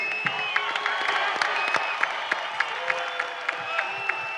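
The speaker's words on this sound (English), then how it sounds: "would like everyone to give Turki Alalshikh a hand and a round of applause" Steady applause from a large crowd at a boxing press conference, dense clapping with sharp individual claps standing out, continuing throughout at moderate loudness.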